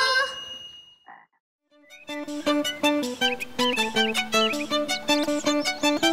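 Cartoon frog croaking in a French children's drawing show, a short vocal tone followed by a bright, rhythmic series of clear, musical croaks and tones, loud and alone.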